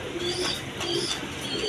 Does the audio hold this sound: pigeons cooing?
yes